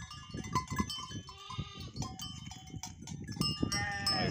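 Sheep and lambs bleat repeatedly on a farm while being separated from their mothers, a dense chorus of overlapping, wavering calls close by, with several animals crying at once throughout.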